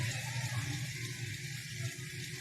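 Water being poured or run into a bowl to soak fried dahi bhallay lentil dumplings in a home kitchen, a steady close gushing stream lasting a couple of seconds with no talk.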